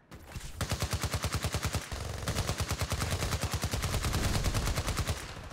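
Automatic weapons fire in the Battlefield Play4Free video game rattles in rapid, evenly spaced bursts, loud and close, with a brief pause before the sustained stream of shots resumes.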